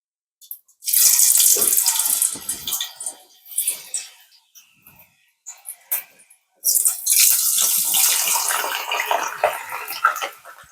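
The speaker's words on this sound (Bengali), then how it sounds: "এখন আমি এটাকে অয়েলের মধ্যে ফ্রাই করব।" Potato strips for crispy French fries bubble and hiss in hot oil in two long, loud stretches, separated by a quieter gap with scattered pops.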